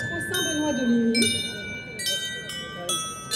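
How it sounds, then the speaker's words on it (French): A small portable carillon in the Tournai grand procession, carried by the patron Saint Benoît de Ligny, rings bright bell strikes in irregular clusters amid crowd chatter and murmuring voices. "vous entendez déjà le carillon de la grande procession de Tournai"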